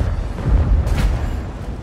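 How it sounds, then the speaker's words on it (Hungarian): A tank cannon fires in World of Tanks, the Object 452K, giving a single heavy boom with a deep rumbling tail, loud and close, with no talk over it. "Egy lövéssel lövök ki a tankot."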